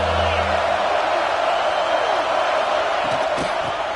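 A stadium crowd in the College Football 26 video game roars as a steady, loud wash of cheering, with a play-by-play voice talking over it.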